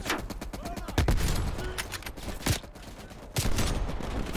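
Dense, continuous automatic gunfire from a machine gun in the Black Ops Cold War campaign, a rapid stream of cracks with a few louder heavy bursts over a constant battle din.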